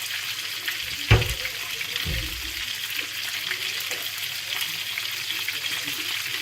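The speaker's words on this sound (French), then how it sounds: "Je vais rajouter un peu d'eau." Water poured into a pan of chicken in cream sauce hisses and splashes briefly, then a low sizzle continues under faint background noise.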